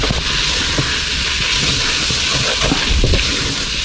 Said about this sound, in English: I'm going to drop the flour in while everything is still kind of sauteing